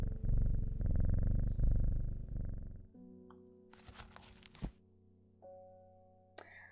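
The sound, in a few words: cat purring in a video game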